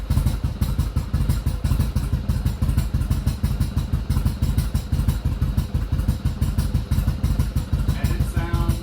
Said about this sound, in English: let me start it up for you guys. So this is a completely cold engine.